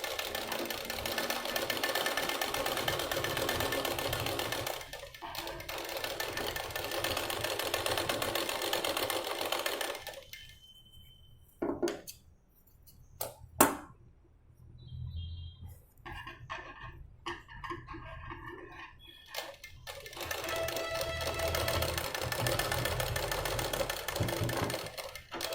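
A sewing machine stitches the lining fabric of a boat-neck, princess-cut blouse in long continuous runs, with a quieter stretch of pauses and short bursts midway before the steady whirring resumes.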